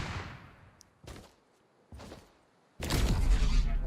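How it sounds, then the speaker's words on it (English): Impulse grenades go off in Fortnite Battle Royale: two short, moderate whooshing blasts spaced about a second apart, then a third, much louder burst that lingers in a broad roar. "You're able to b-hop off of impulse grenades,"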